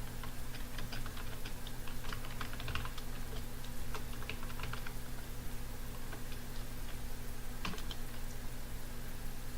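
Java code being typed on a computer keyboard, with steady bursts of close, crisp key clicks and no talk, over a constant low electrical hum.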